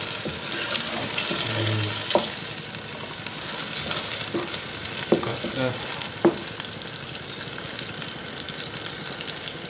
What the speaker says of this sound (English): Making tomato sauce now.